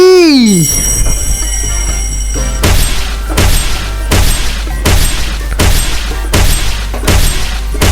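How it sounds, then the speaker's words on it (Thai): A fireball skill explodes in the Roblox-style game Speed Piece: a descending whoosh and crash, then a rapid series of loud, evenly spaced blasts. "ปล่อยลูกไฟอีกแล้วแล้วก็ระเบิด"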